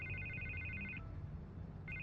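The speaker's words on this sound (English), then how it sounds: "I can't get the phone to stop ringing." A telephone in a Batman video game rings in clipped electronic trills, one ring lasting about a second, then a pause, then the next ring starting, set against a low steady background hum.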